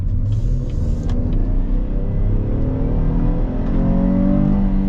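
A non-turbocharged 2023 SUV accelerates from a stop, its engine note rising steadily in pitch as the revs climb, a continuous cabin rumble with no talking.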